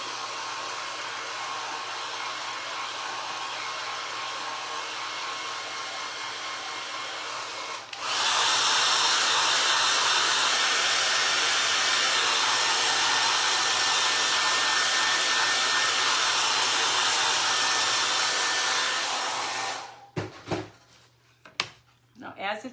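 Hair dryer drying a paper mache ghost box, a loud steady whooshing blow running for about twenty seconds, stepping up to a higher setting partway through, then cutting off abruptly, followed by a few handling sounds.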